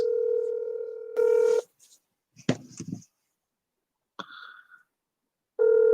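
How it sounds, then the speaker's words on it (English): A phone's steady dial tone plays over speakerphone, loud and continuous, breaking off into short tone bursts and clicks before it returns, with no talking. "Let me make a phone call real quick, guys."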